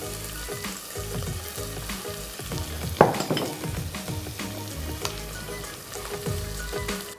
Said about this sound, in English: you really want to fry off that garlic and ginger paste and the onions well